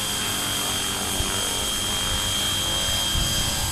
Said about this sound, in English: And here's the helicopter.